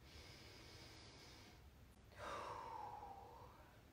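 A person breathes slowly while holding a quad stretch to ease soreness, with a quiet inhale followed by a louder, longer exhale close to the microphone over low background noise.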